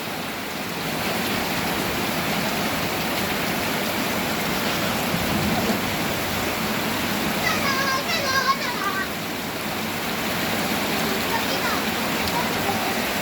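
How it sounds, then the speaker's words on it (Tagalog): Children play in rainwater during a downpour: steady rain hisses and splashes, with faint children's voices and a brief, distant chirping sound partway through. "Naglalaro ng tubig ulan."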